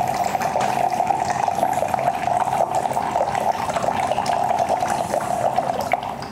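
Water runs steadily from the dispenser of an RKIN U1 countertop reverse osmosis system, a continuous close splashing stream that fills a container with no pauses and no talk.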